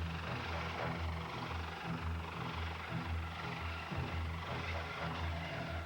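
Coast Guard helicopter thumps steadily overhead during a rescue at sea, its rotor beating in an even, continuous rhythm with a broad engine wash, heard alone with no talk.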